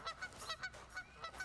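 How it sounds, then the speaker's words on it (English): A flock of geese honking repeatedly in quick, irregular bursts, about eight or nine calls over a second and a half, fairly close and clear above a low background rumble. "Oh, geese!"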